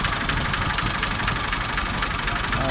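A Massey Ferguson 240 tractor's diesel engine idles close by with a steady, loud, slightly knocking chug and no talk over it.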